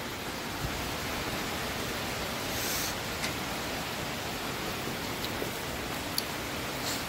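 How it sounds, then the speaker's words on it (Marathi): Steady, even hiss of rain falling, constant throughout with no voices or other distinct sounds. "चांगलाच वाढलाय किंवा पाऊस"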